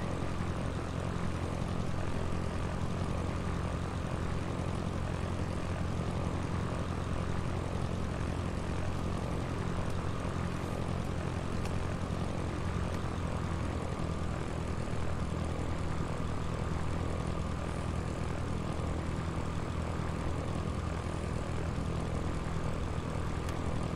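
Steady, continuous drone of a simulated Cessna propeller aircraft engine in the Sierra Pro Pilot flight game, a dense broadband hum with a low rumble, constant in level throughout with no talk.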